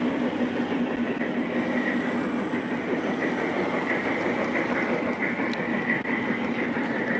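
A model train, a Southern Pacific A6 Atlantic, runs steadily along a track, a continuous rolling rumble with faint clicking and whine, close by, with no talk.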